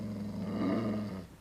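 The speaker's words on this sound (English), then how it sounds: "take the dog outside" A dog gives a low, rumbling growl up close, swelling briefly and then trailing off, with no one talking over it.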